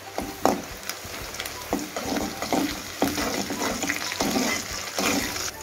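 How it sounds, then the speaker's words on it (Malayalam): Fennel seeds, cumin, garlic, ginger and cardamom fry in a pan for dal tadka, stirred with steady scraping strokes over a continuous, close oily sizzle. "ഇളകി കൊടുക്കും."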